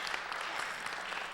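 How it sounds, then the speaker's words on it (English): Audience applause at a December holiday public hearing, a steady dense wash of clapping throughout with no voices over it. "give yourselves a round of applause"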